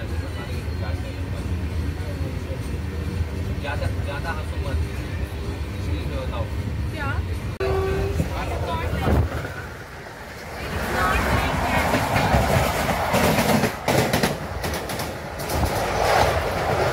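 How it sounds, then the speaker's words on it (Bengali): 22893 Sainagar SF Express passenger train running on rails in the evening, with a continuous rolling rumble and wheel clatter that dips briefly, then swells louder with busier rattling in the second half. "একের পর এক স্টেশন ক্রস করে আমাদের ট্রেন এগিয়ে চলেছে গন্তব্যের দিকে"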